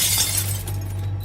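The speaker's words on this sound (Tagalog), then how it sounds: "Basag ang salamin." A glass window shatters in a loud, dense burst of breaking glass with a steady low hum beneath it, set within a spoken horror story.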